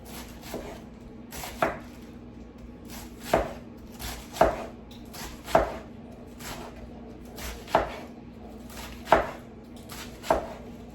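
A knife thinly shreds cabbage on a cutting board, with about a dozen crisp, evenly spaced chops landing every second or so, close and clear over a faint background hum.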